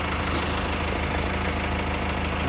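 A vehicle engine idles with a steady, even rumble and a slight knocking texture while the car is pushed, close and constant with no talk.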